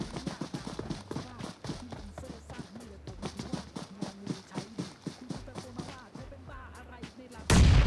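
Rapid gunfire in the battle royale game PUBG cracks in repeated sharp bursts, moderately loud, while a commentator talks excitedly over the shots throughout.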